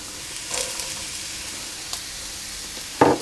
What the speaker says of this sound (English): we'll go on and fry off the carrots and the onions